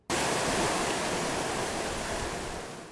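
Water spilling out of Lake Tahoe at a fast pace, more than 1,100 cubic feet per second, roars in a steady, dense, broadband rush that starts abruptly and holds loud and close throughout.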